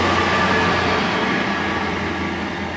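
A Class 802 train, units 802-002 and 802-022, runs past on the service toward Bristol Temple Meads with a steady, loud rumble and a high whine that eases slightly as it goes by, with no one talking.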